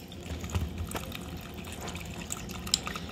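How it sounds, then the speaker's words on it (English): Water runs into a cup, filling it to the line for Velveeta Shells and Cheese, as a soft, steady trickle with faint drips and clinks, quiet and close. "Now I'm going to need to get some water"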